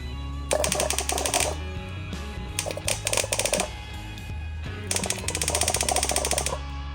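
Electric primer pump for a naturally aspirated Ford E100 Econoline, powered from a motorcycle battery, chattering loudly in rapid mechanical bursts that stop and restart several times over a steady low hum.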